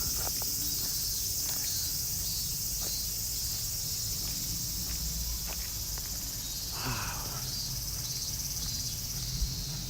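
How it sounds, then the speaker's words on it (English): Cicadas buzzing in a Tokyo park, a dense steady high-pitched drone that fills the whole stretch, with faint scattered footsteps and small rustles underneath and no voices. "You guys know cicada? This is what the noise is."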